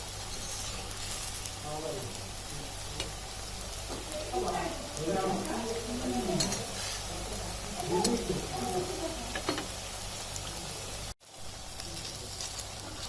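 Chicken puli pitha, a savory meat-filled Bengali dumpling, frying in oil in a pan, a steady sizzle running throughout with stirring and flipping noises, brief clatter, and a short dropout near the end.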